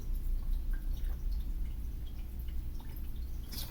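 Water pours into a drinking glass with a steady, close trickle and a few splashy drips throughout, no voices.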